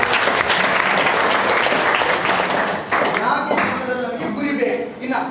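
An audience at a motivational talk bursts into loud applause that thins out and fades toward the end, with a speaker's voice coming in over the clapping.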